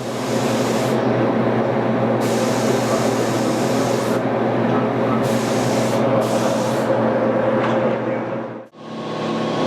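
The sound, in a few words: spray gun shooting top coat paint on lathe parts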